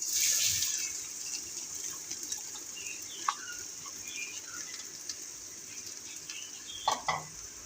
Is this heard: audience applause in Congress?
no